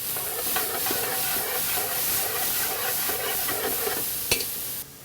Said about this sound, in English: Extra virgin olive oil in the pan. We're gonna saute our ginger, onions, garlic.